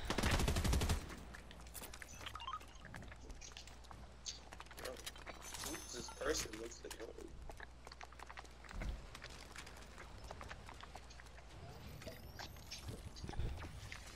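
Gunfire bursts in Fortnite during a match, loud shots at the start followed by scattered fainter shots under ongoing talk.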